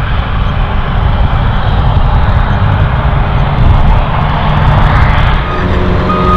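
A New Holland FR9060 forage harvester working in a maize field gives a loud, close, continuous engine drone with heavy low rumble and a steady mechanical whine.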